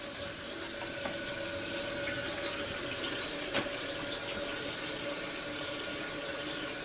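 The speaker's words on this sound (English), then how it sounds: "Not exactly a quiet tank to fill up, but the toilet ain't flooding all over the place." A toilet tank refills after a repair: a steady, fairly loud hiss of rushing water runs throughout, close by and unbroken, with no one speaking.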